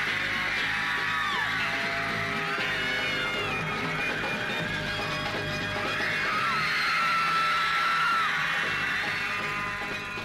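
A large crowd of New York fans screaming for the Beatles: a dense, unbroken wall of high-pitched shrieks and yells that stays loud throughout.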